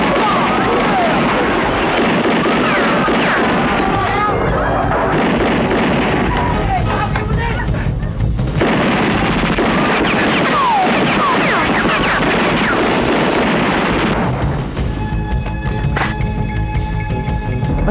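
Dense, continuous crackling and popping of many firecracker bangs, loud and close, with voices shouting through the barrage.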